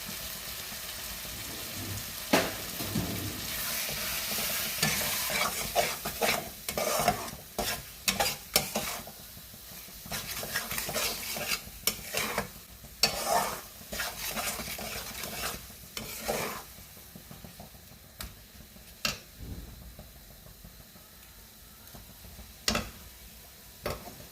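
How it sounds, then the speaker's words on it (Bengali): Chicken masala being slowly sautéed in a pan for a winter chicken kosha, with steady sizzling and frequent sharp stirring scrapes and clicks up close. "মশলাটাকে আমি কষাবো আস্তে আস্তে"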